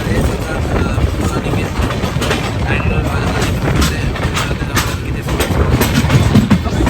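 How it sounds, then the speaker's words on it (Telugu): The Bengaluru–Hazrat Nizamuddin Rajdhani Express roars along the rails at about 132 km/h with a steady, loud rumble and rhythmic rattling of wheels, continuous throughout. "సో ఇప్పుడు ట్రైన్ చూడండి 132 స్పీడ్ పైన రన్ అవుతుంది."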